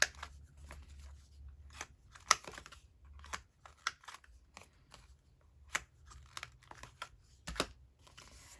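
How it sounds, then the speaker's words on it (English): A corner rounder punching the corners of a paper junk journal card, a series of faint, sharp clicks and snips at irregular intervals in a quiet room. "I'm going to round the corners again because it's a journal card."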